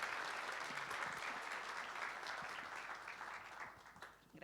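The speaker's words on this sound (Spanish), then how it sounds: "recibámosla con un fuerte aplauso" Sustained audience applause fills a conference hall to welcome a speaker onto the stage, a dense even clatter of many hands that fades slightly toward the end with no talk over it.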